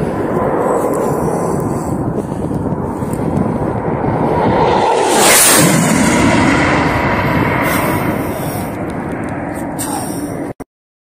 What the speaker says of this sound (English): Low-flying Ukrainian Su-25 aircraft from 2 hours ago.